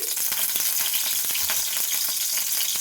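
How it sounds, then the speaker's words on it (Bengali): Mustard oil crackles and sizzles steadily in a hot wok, a dense hiss with scattered sharp pops, close and continuous with no voices. "কড়াই গরম হয়ে গেছে, এবার আমি দিয়ে দিচ্ছি সরষের তেল।"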